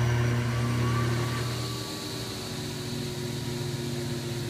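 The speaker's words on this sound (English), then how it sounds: "Motor starting." The motor of a pitching machine loaded with tennis balls runs with a steady mechanical hum and whine, starting slightly louder and settling into an even drone, close by.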